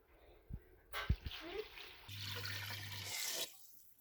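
Liquid is poured into a hot pan over a roast leg of lamb with vegetables, a steady splashing pour lasting a couple of seconds after a few clinks of utensils, close and fairly quiet.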